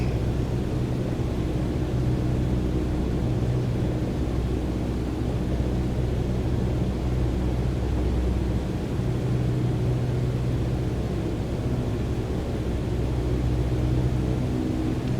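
Light aircraft engine on landing approach in Microsoft Flight Simulator 2020, a steady loud droning rumble with broadband hiss, unchanging and close for the whole stretch.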